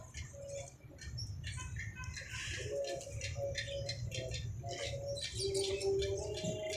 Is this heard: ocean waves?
no